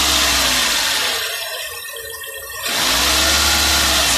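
A car engine with computer-controlled valve pulses revs as the accelerator is pressed, a steady close roar that eases off and then surges back up.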